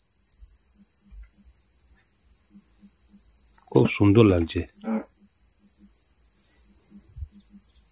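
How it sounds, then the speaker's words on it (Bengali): Crickets chirp in a steady high drone on a quiet, foggy night outdoors near a forest resort, while someone briefly talks partway through. "চারিদিকে পুরো নিস্তব্ধ, ঝিঝি পোকার ডাক আসছে"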